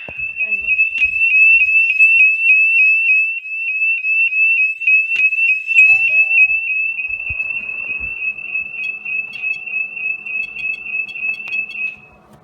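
A SimpliSafe home security alarm sounding, a loud, piercing, rapidly warbling electronic siren that holds steady for about eight seconds, then continues more faintly under other household sounds before cutting off.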